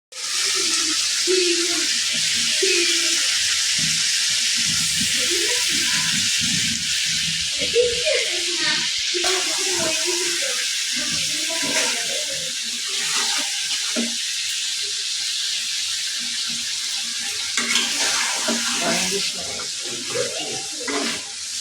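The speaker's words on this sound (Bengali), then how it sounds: "এই যে মাছ ভুনা হচ্ছে" Tengra fish bhuna fries in a pan with a bright, steady sizzle throughout. A person talks over it intermittently.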